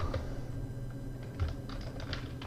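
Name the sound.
typing on a computer keyboard while writing a script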